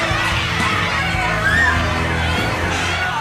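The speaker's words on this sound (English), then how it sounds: "Outside, there's a crowd of bar patrons hanging out on the street" A crowd of drinking bar patrons gathers on the street at last call, their loud overlapping voices and shouts forming a dense, steady babble with no single voice standing out.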